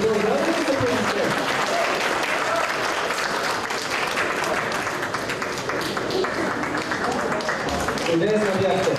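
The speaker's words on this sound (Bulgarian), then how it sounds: "Още аплодисменти. Продължаваме с аплодисменти." Sustained applause from an audience at a Bulgarian university celebration, steady dense clapping filling the whole stretch with a host's voice heard over it at the start and end.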